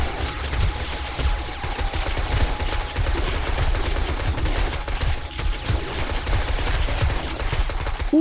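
Automated turrets blaze away at a zombie horde in 7 Days to Die with the Darkness Falls mod, a steady, loud stream of rapid gunfire that keeps going without pause, with a faint tone riding over it.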